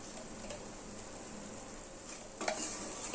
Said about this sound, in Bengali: এবার ঘি খুব ভালোভাবে মিশিয়ে দিচ্ছি খুবই আলতো হাতে ঘি মিশিয়ে দিচ্ছি